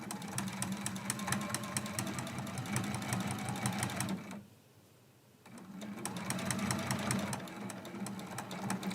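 A sewing machine stitches binding along the edge of a quilt with flannel layers, a fast steady mechanical whir that runs loud, drops away for about a second, then resumes at the same pace.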